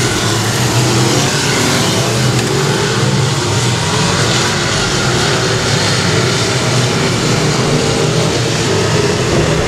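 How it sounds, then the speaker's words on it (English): Race car with a Hemi engine roaring at full throttle around a dirt speedway, a loud, dense, unbroken engine drone with no pauses. "Billy Robinson's got a daggum Hemi in that thing tonight"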